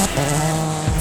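A rally car races flat out over a straight crest, its engine roaring loud and close with tires skidding and squealing in one continuous burst.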